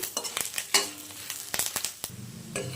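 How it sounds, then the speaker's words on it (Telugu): Crushed garlic, dried red chilies and curry leaves frying in a pan, with a close, steady sizzle broken by frequent sharp scrapes and clinks of a spoon stirring against the pan, no voices. "వెల్లుల్లి రెబ్బలు అయితే ఒక నాలుగైదు దంచి వేసుకున్నాను ఎండుమిర్చి కరివేపాకు వేసుకుంటున్నాం ఒకసారి బాగా ఫ్రై చేసుకున్నాము"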